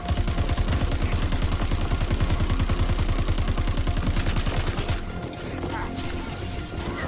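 Rapid sustained automatic gunfire in the video game Crackdown 3, a dense rattling burst of shots lasting about five seconds before dropping into scattered impacts and rumbling action.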